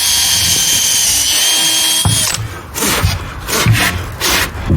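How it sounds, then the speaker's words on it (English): A power drill drives screws into a wooden ramp launcher, a loud sustained high motor whine for about two seconds, followed by bursts of shorter drilling and scraping against wood. "And when I put these screws in, they'll pull it up really tight."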